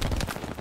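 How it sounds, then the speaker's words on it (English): A short burst of rapid, overlapping gunfire in the World War II shooter game Hell Let Loose, a dense rattling volley at moderate level with no talk over it. "I hear gunfire everywhere."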